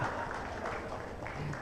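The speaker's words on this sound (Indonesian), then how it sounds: "Tepuk tangan sekali lagi sama yang bantu bikinin." A crowd applauds at a national leadership meeting of a political movement, producing a steady, fairly quiet wash of clapping with murmuring voices mixed in for the whole short stretch.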